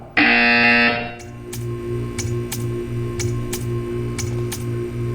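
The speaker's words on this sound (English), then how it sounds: "You will hear a buzzer." Portal 2 test-chamber buzzer: a loud tone opens, then a steady series of repeated buzzing pulses with clicking ticks at regular intervals, no talk.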